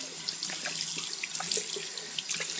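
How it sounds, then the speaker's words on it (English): A tap runs a steady stream of cold water into a sink for rinsing the face after shaving. The splashing is close, continuous and hissy, with small changes as hands pass through the flow. "And so just with some cold water"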